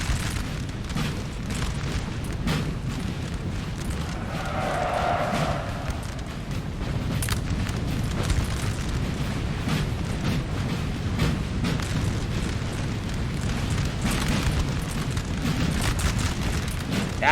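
Battlefield artillery fire in Napoleonic Total War 3 during a 4v4 clash: a continuous low rumble of distant booms and cannon blasts beneath a dense battle roar, steady throughout with scattered sharper reports, no voices.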